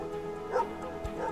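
Sled dogs at a dog sledding outfit in Quebec give a few short yips and barks, moderately close and mixed into a steady outdoor background.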